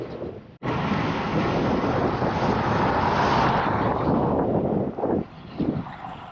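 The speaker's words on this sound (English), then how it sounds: "just non-stop, really heavy wind and constant rain" Heavy wind roars across the microphone while cycling over a viaduct in a rainstorm, a loud, steady, dense rush that cuts in abruptly and holds before dropping slightly near the end.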